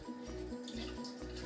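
Warm water runs steadily from a bathroom tap while someone washes their face, a continuous close hiss and splash with a few low pulsing surges, no voices.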